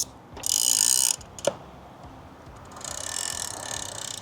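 An Okuma LBS Shark fishing reel fitted with a TDC drag cam clicks and ratchets as its strike lever is set, with bursts of rapid mechanical clicking, a single sharp snap in between and a longer buzzing ratchet run, heard close up.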